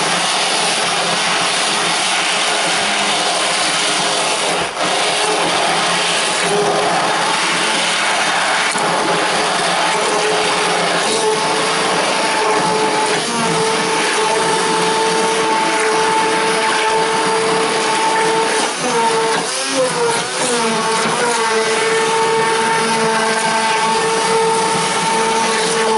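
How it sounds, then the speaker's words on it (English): An immersion blender whirs steadily as it purées peppers for a Texas red chili, a loud continuous motor drone with slight pitch shifts as the blade works through the mix. "now this is where my immersion blender comes in"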